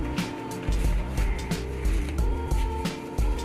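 A kitchen mixer grinder churns torn pieces of stiff, toasted roti into a coarse powder, a steady loud whirring with rhythmic knocking and rattling as the chunks tumble in the jar, with no voices.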